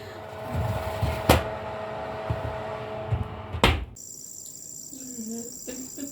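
Tray of cookies put into a home oven, two sharp clunks of the oven door and rack, then an electronic beep and a steady hum after the door shuts, with faint voice.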